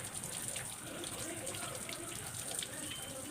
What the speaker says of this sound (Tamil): இப்போ நம்ம இதை வாஷ் பண்ணிடலாம்.